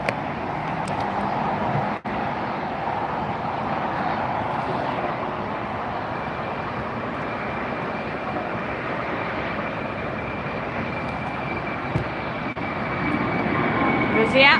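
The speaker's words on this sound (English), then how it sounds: "want to show you this United that's taxiing up" United airliner taxiing at LAX airport at night, a steady broad jet engine rumble and whine that holds throughout, swelling slightly near the end, with a faint high tone running across the middle.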